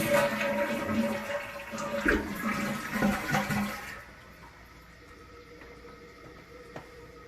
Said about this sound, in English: We flushed the toilet about 3-4 times, testing to make sure there's no leaks.